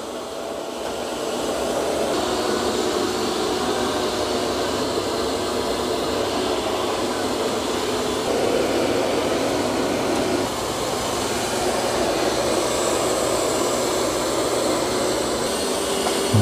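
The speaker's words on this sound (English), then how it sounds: "it ramped up the suction" Eufy X10 Pro Omni robot vacuum running with its suction ramped up, a steady whirring motor hum that holds evenly at moderate level for the whole stretch, with no talk.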